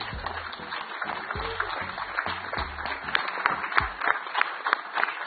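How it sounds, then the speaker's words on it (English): A crowd applauds panelists at the close of a community housing discussion: continuous dense clapping at moderate level, steady with slight swells toward the end, with a little background chatter. "Let's give our panelists another round of applause"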